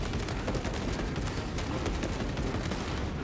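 A heroic heavy bolt rifle fires in rapid, sustained bursts in Space Marine 2, a dense, loud barrage of overlapping shots with constant booming impacts and no gaps.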